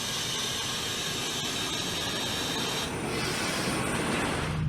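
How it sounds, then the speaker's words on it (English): Trains passing on both sides at a station in Thailand, a loud continuous rumble of wheels on rails with metallic squeal and rushing wagons close by, steady throughout. "We're getting squished between 2 trains."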